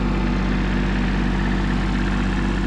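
A tractor engine runs steadily with the PTO engaged, a loud, even, low rumble close by with no voices, ahead of hedge trimming on large spruce trees.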